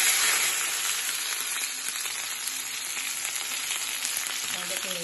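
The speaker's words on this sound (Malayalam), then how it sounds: "അതിന്റെ മുന്നായിട്ട് ഞാന് കടുക് പൊട്ടിക്കട്ടെ കേട്ടോ." Mustard seeds splutter and pop in hot oil in a home kitchen, a dense, steady crackle of sharp little bursts close by with no voices.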